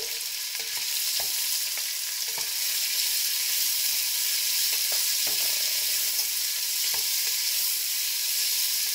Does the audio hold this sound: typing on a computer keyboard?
no